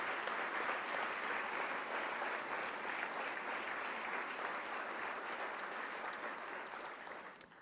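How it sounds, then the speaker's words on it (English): An audience gives a long round of applause honoring Medal of Honor recipients, dense sustained clapping that stays steady before tapering slightly at the end. "just give them another round of applause for all you've done"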